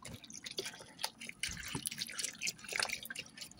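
Beef broth is poured into a crock pot with cubed steak, a close, steady trickling and splashing of liquid that runs for a few seconds.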